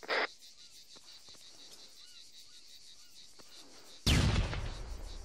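A short blast opens the clip, then quiet ambience with faint clicks, and a loud, close explosion bursts near the end with a rumbling tail, in the game Arma 3.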